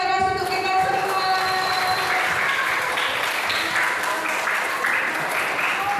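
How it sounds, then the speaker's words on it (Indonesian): Children in a classroom applaud loudly at the end of a Christian meditation session, steady continuous clapping that runs for the whole stretch, with voices and tonal sounds over it. "tepuk tangan yang keras untuk kita semua"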